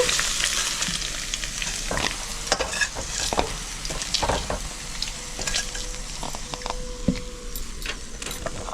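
Bottle gourd pieces frying in a pan, a continuous sizzle broken by repeated scraping and clattering stirs of a spatula, with a few metallic clinks.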